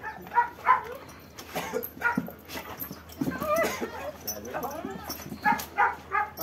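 A dog gives short whimpers, yips and soft barks in repeated bursts, fairly faint, mixed with people talking close by.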